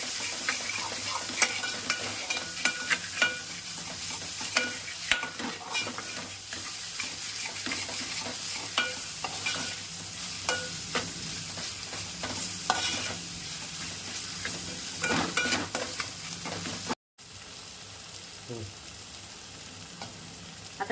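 Ginger garlic paste sizzles steadily in a hot pan for a spicy crab curry, with frequent scraping strokes from a spoon. A brief silent gap interrupts the frying near the end.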